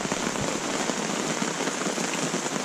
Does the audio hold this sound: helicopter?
no